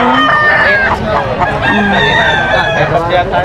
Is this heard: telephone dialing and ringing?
no